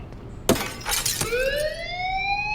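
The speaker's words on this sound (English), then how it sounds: "I can break this goddamn glass." Glass smashed with a hammer in the video game Life is Strange: a sharp crash with scattering shards near the start, followed by a rising, siren-like ringing tone that holds to the end.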